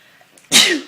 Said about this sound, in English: hold on, I just sneeze.